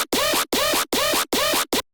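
A bass helper sample called Wonk, used to make dubstep bass sound wilder in a Ray Volpe style: four loud, buzzing, wobbling bursts in a steady rhythm, then a short fifth burst and silence.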